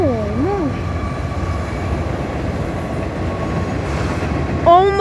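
Norfolk Southern freight train led by ES44AH locomotives passes with a steady, loud rumble of rolling cars and wheels, a horn-like tone at the start and a brief voice near the end.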